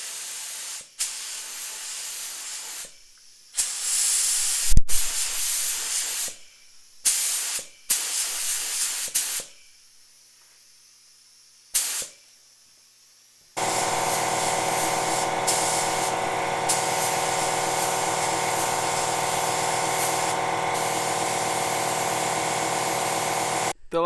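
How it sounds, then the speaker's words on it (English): Spray gun applying Code F Marina Blue paint to car parts during a 1973 Celica restoration: short bursts of close, loud hissing spray separated by pauses, then a long unbroken hiss with a steady tonal hum beneath it. "The last color I'm spraying is my Code F Marina Blue, and that's going to go on these items here."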